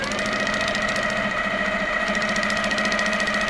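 A sewing machine stitches steadily around a leaf shape, its fast rhythmic motor hum and needle chatter running continuously and close, with no pauses.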